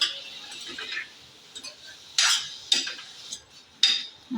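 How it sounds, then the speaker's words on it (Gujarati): A spoon stirring masala into boiled teasel gourd curry in a pan, a few sharp metallic clinks and scrapes against the pan with quiet pauses between them. "હવે આ બધો મસાલો સરસ રીતે હું મિક્સ કરી દઈશ આમાં."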